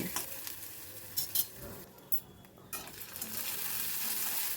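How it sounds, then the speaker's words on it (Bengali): Onions with ginger-garlic paste are stirred in a frying pan, a steady sizzle broken by scraping and clinking of the spatula against the pan, close and with no talking. "তখন আমি এর ভেতর দিয়ে দিচ্ছি এক চামচ মতো আদা রসুনের পেস্ট আবার সব কিছু ভালো করে মিশিয়ে নিচ্ছি"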